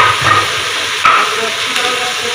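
Masala cooks in a pan for a chicken dish, a loud steady sizzle and hiss with a sharp scrape or knock partway through.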